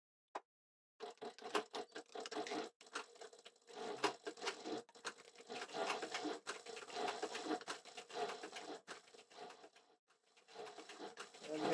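A sewing machine stitches a leather holster in a fast, steady mechanical patter that runs for about nine seconds, briefly eases off, and then starts again near the end. No one speaks.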